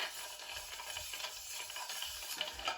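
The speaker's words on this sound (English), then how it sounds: "this is probably going to make a racket, because it's in a metal coffee cup" A long cocktail spoon stirs a Manhattan in a metal coffee cup, giving a steady, faint scraping swirl with soft clinks throughout and no talking.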